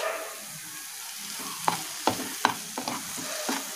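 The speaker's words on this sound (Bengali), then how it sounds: "ভালো করে মশলাগুলোর সাথে মিশিয়ে যাতে চিংড়ি মাছের জলটা পুরোটা শুকিয়ে যায় ততক্ষণ একটু নাড়াচাড়া করব" Prawn paste fries quietly with spices in a pan, a soft low sizzle under several sharp scrapes and taps of a spatula stirring it, close by, with no voices.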